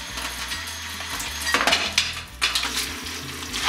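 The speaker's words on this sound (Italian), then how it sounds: "E li trasferiamo nella pentola dove il nostro pomodoro è pronto." Cooked spaghetti is moved into a pot of ready tomato sauce, with clattering pot and utensil knocks, a few louder scraping clanks and a soft sizzle underneath, no talk.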